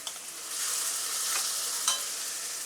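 Chopped tomatoes and onion with spices sautéing in a pan for a paneer curry, a steady close hiss of frying with a couple of soft stirring scrapes, no voices.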